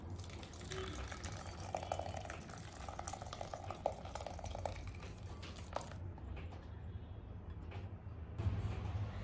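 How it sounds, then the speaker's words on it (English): Water drains from freshly curdled homemade cream cheese through cheesecloth into a bowl, a steady close trickle and splash that runs without a break and then thins out near the end. "You have to allow the water to drain out now."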